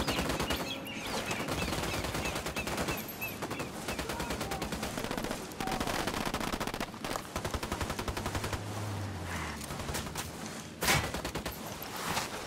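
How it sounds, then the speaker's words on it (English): Rapid automatic gunfire in the video game Tom Clancy's Ghost Recon Wildlands, dense close bursts of shots continuing almost without pause, with one louder blast near the end. "Opening fire."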